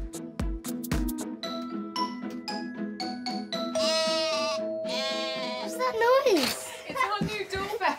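A sheep bleats in a wavering, harmonic call from about 3.7 to 6.5 seconds, heard after a stretch of bright, tuneful music with plucked notes in a children's home setting.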